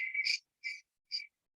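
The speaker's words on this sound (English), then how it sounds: "shut up with the crickets" Crickets chirp in short, evenly spaced bursts, three clear chirps and the start of a fourth, fairly close and alone with no talk or other sound around them.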